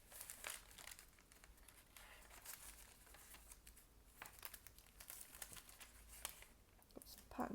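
Sheets of patterned craft paper for a junk journal are rummaged through, giving faint, close crinkles, rustles and quick papery flicks in an irregular stream.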